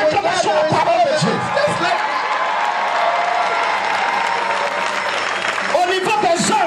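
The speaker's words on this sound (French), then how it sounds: "Lève-toi et donne l'acclamation à la parole de Dieu" Congregation at a church service applauds in a sustained burst of clapping mixed with cheers and crowd voices, fading briefly before rising again at the end.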